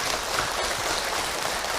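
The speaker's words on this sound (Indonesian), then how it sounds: "Tapi sebelumnya boleh tepuk tangan dulu untuk Ibu Herti ya." Steady applause from an audience at an Islamic religious talk, dense continuous clapping that stays even and fairly loud for the whole short stretch.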